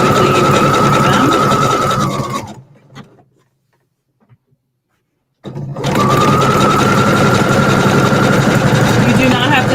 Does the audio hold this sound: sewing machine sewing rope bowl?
yes